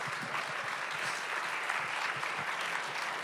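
An audience at a library author event applauds the speaker, a steady, dense wash of many hands clapping at once, sustained without pause and fairly distant.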